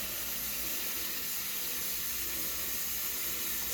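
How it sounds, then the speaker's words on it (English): Water trickles steadily into a cooking pot holding octopus, being prepared the Sicilian way, a soft continuous hissing pour that runs evenly throughout with no talking. "a little bit of water here just to barely cover the tops of the octopus"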